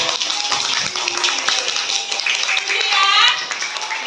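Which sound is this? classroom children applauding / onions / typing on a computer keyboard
classroom children applauding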